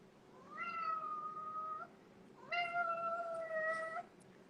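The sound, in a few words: cat meowing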